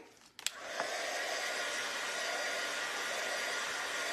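A hair dryer switches on with a couple of clicks and then blows steadily and loudly, drying a craft piece, a constant close whooshing hum with no talking.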